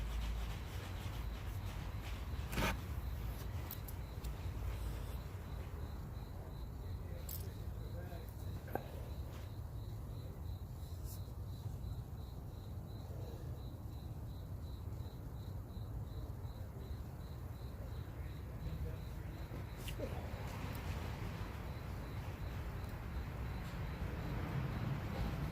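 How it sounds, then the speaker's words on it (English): Crickets chirp indoors in a steady, fast-pulsing trill that runs on continuously and fairly faint over a constant low background hiss. "Can you hear my crickets?"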